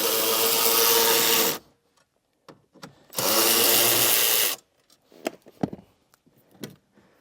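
A power driver fitted with an 8mm socket backs out screws during a Redarc Tow-Pro Liberty brake controller installation, giving two loud, steady whirring bursts of about a second and a half each, followed by faint clicks and handling noises.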